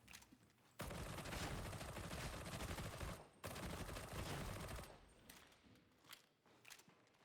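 Automatic gun in Warhammer 40K: Darktide firing sustained bursts, loud and close, a long dense stream of rapid shots broken by a brief pause and then resuming before tapering into scattered single shots.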